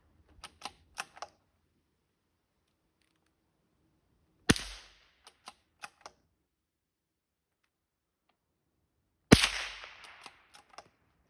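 Sharp shots ring out at intervals at card targets during shooting practice, each followed by a few light clicks and ticks, with quiet stretches between them.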